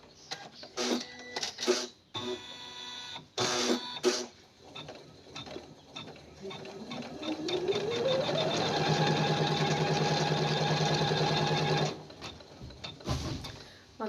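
Sewing machine stitching patchwork onto a suit, starting with short bursts of rapid clattering, then rising into a long steady whirring run before stopping, with a few more brief bursts after, close and loud.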